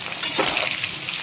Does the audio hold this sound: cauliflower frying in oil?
yes